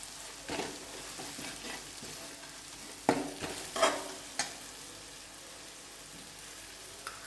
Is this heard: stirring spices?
yes